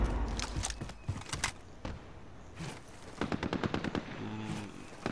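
Assault rifle gunfire in a multiplayer shooter video game, several sharp bursts of rapid automatic shots at moderate loudness, separated by short pauses.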